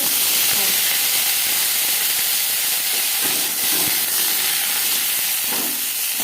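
Dry red chilli pieces hit hot oil as tempering for a sweet raw mango chutney, a loud, continuous hissing sizzle close up with a few faint knocks of the pan beneath.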